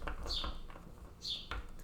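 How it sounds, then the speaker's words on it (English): Birds singing outdoors, with two brief, bright chirps about a second apart heard faintly over a soft background hum. "The birds outside"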